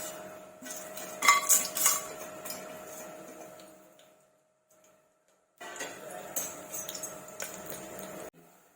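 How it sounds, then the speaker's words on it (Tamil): Masala spices stirred and sautéed in oil in a cooking pan for a Tamil mutton curry with potato and drumstick, with scraping, tapping metal clatter in two bursts separated by a quiet pause, close and moderately loud. "இப்ப நம்ம கிட்ட இருக்கிற இந்த மசாலா பொருள் எல்லாத்தையும் போட்டு வதக்கிக்கலாம்"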